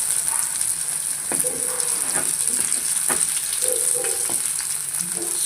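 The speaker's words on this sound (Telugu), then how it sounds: "సో నెక్స్ట్ బ్యాచ్ ఫ్రై అవుతూ ఉంది" A fresh batch of vegetarian liver-style pieces fries in hot oil for a curry, a constant close sizzle with occasional soft clinks and stirring scrapes.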